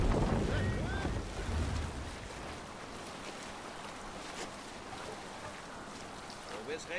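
Viking longship at sea in Assassin's Creed Valhalla, with rushing wind and water washing against the hull, loudest at the start and then settling into a steady, softer whoosh.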